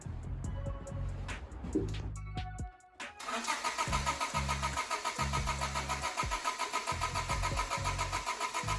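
A 1998 Honda Civic, just fitted with a new fuel pump and fuel injectors, cranks with a rapid whirring starter, briefly stalls, then cranks again and catches into a loud, steady idle close by.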